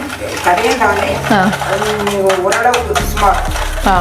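Rose cookie batter of egg and sugar being stirred in a bowl, with soft scraping and clinking under steady nearby talk throughout.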